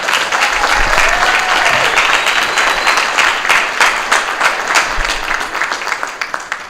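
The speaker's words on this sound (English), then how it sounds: "So let's hear it for Lieutenant Governor Kevin Bryant." Audience applause at a governor candidates forum in Myrtle Beach, a loud, dense wash of clapping that holds steady across the whole stretch, then thins into scattered individual claps near the end.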